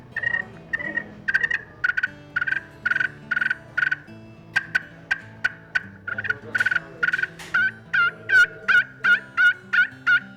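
A hand-operated turkey call imitates a Merriam's hen, starting with soft rolling purrs and moving into a long, rhythmic run of sharp yelps, each one distinct, loud and close.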